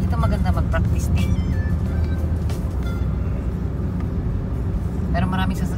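Cars and other vehicles pass along a busy Philippine road in a loud, steady low rumble close by, with short horn or engine whines here and there and voices talking throughout.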